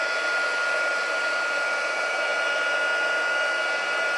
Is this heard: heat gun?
yes